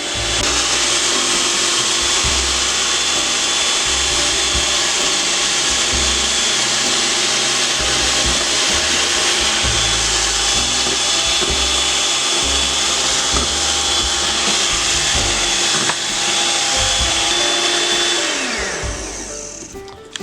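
Electric mixer whirring steadily while beating pumpkin cake batter, a loud continuous motor drone with a high whine that holds for about eighteen seconds, then winds down at the end.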